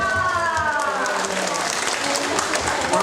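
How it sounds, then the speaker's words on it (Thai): Steady applause from the audience at an award ceremony during a fifth-anniversary celebration, dense clapping filling the room while a host's voice talks over it. "มาเสียงปรบมือเลยค่ะ"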